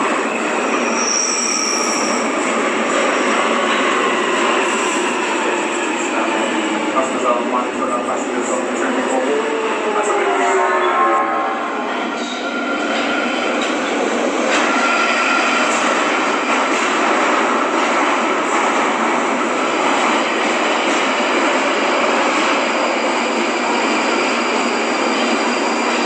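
London Underground Jubilee line train running, a loud, close, sustained rumble and roar with a rising wheel squeal and whine partway through, continuing steadily to the end.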